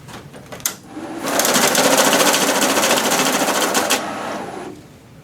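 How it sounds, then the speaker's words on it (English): A BCS 160 bill counting machine runs through a stack of paper money. After a few short clicks, a loud, steady whirring flutter of riffled notes lasts about three seconds and then cuts off, with no talking. "By repeating the process, we can work our way through the stack very quickly, sorting out the money."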